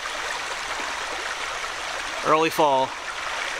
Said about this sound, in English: Beautiful little stream here.